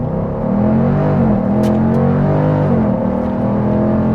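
A 2024 Dodge Durango SRT 392's V8 engine pulls hard in a steady, loud, sustained roar, with the pitch shifting slightly as it accelerates. No voices are heard.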